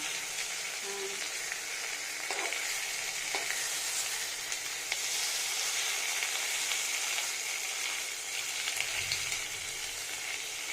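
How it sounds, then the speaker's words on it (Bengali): Chhana paturi wrapped in pumpkin leaves fries in a pan with a steady, bright sizzle that runs the whole time, broken by a few soft scrapes and knocks of turning, with no voices. "পাতাটা ভাজা ভাজা হয়েছে"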